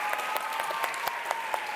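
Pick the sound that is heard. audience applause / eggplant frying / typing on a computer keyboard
audience applause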